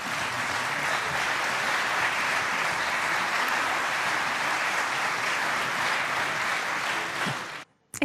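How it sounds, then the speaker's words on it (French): A chamber of senators applauds newly elected quaestors in the French Senate, a dense, steady wash of clapping that fills the room evenly for about seven seconds before stopping abruptly. "Oui, vous pouvez les applaudir."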